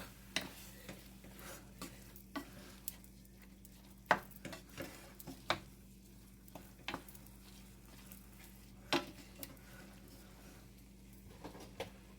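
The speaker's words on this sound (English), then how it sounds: "We're going to make sure we get all this meat browned up." Ground meat, about 3 pounds, browning in a pan for shepherd's pie, with quiet stirring and scraping clicks over a faint steady sizzle and low background hum.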